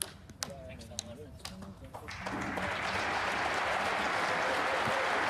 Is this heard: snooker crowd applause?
yes